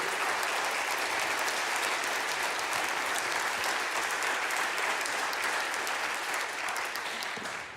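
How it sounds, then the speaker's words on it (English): A crowd gives a big round of applause for David Campbell and his service dog Caleb, a steady, bright wall of clapping that holds strong throughout and eases slightly at the very end, with no voices over it. "How about a big round of applause for Mr. David Campbell and his service dog, Caleb."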